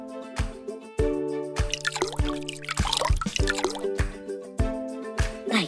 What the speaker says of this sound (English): Now, we're going to add our wet ingredients, oil and water.